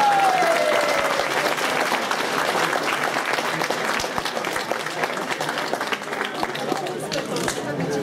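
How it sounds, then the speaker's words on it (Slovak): Audience at an award ceremony for a night running race in Zvolen applauding steadily for several seconds, a dense, fairly close patter of many hands with a few voices mixed in. "Aj potlesk poprosím."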